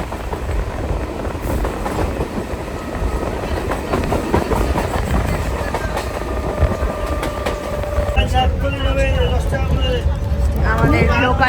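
A local train running through countryside, its steady rumble and rhythmic clickety-clack of wagons filling the clip, close and loud, with faint chatter and a high squeal toward the end.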